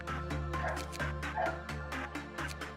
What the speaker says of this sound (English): That dog is just getting louder.